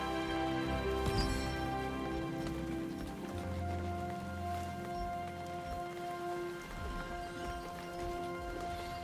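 Steady rain falls in the video game Throne and Liberty, a continuous close patter of drops on surfaces, with soft sustained music underneath.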